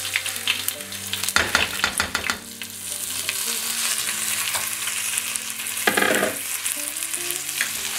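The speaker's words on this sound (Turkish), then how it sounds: "Pirincimiz kavrulsun." Rice fries in hot olive oil for stuffed peppers, a close steady sizzle with loud bursts of stirring and scraping, first near the start and again later.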